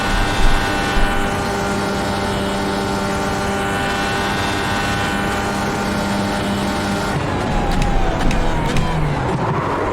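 A Dallara IR18 IndyCar engine in the iRacing sim at Spa-Francorchamps holds a loud, steady, raspy high-pitched drone, then its pitch sweeps down through several quick downshifts toward the end.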